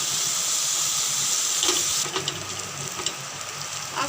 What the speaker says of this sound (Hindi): अब ये भुनने लगी है प्याज।